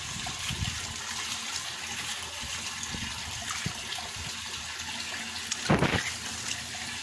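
A steady, close hiss of water spraying or flowing as grapevines are watered continues throughout, with a brief louder gush near the end and no talking.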